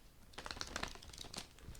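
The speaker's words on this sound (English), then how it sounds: "These are big cards. They've always been hard to shuffle." Large tarot cards being shuffled by hand, a quiet run of soft papery riffles and flicks close by, with no talking.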